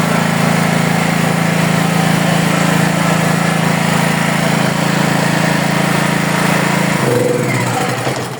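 Small home generator engine running close by, a loud steady droning roar with a constant low hum, dipping and changing pitch near the end as it winds down.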